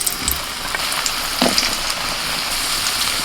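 Potatoes frying in hot oil in a pan, a dense, continuous crackling sizzle with scattered sharper pops, close and fairly loud, with no voices.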